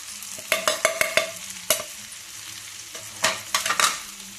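Spices for a Madrasi-style bitter gourd (karela) bhaji hit a hot pan and fry, with a spoon scraping and stirring in quick bursts over a low, steady sizzle. Close and fairly loud, no voices.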